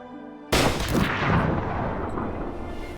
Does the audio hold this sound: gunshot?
yes